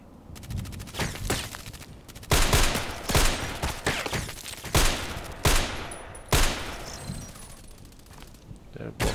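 Loud close gunshots in an online shooter, roughly a dozen sharp cracks fired in uneven bursts, ringing out over a continuous hum with intermittent speech.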